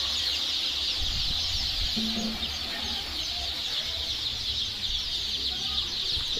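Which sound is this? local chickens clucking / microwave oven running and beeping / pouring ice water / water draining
local chickens clucking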